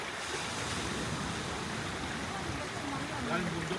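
Ocean surf rolls steadily onto a beach in Surigao, a dense, continuous wash of breaking waves that stays loud and close, with some wind buffeting mixed in.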